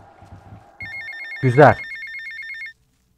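A telephone rings in the video game GTA Vice City, a repeating electronic trill that starts after some quiet game sounds and runs for almost two seconds, while someone speaks briefly over it.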